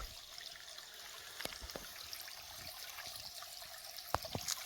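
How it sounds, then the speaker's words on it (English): Spring water spills steadily out of a dam holding back a lake, a soft continuous trickle and wash with a few brief splashy spikes near the end, fairly quiet and steady throughout. "It's all spring water coming out this dam that's holding my lake in there."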